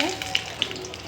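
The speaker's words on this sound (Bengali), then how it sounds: "এই যে আমার ডিম ভাজা হয়ে গেছে," Eggs frying in a cooking pan give a brief, soft sizzle punctuated by two sharp little pops of spattering oil.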